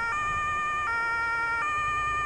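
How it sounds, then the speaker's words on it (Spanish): A fire truck siren in Farming Simulator 22 wails as a steady electronic tone that holds level, with brief clicks where the pitch resets two or three times, over a low engine rumble and no talking. "Cambiar sonido de sirena"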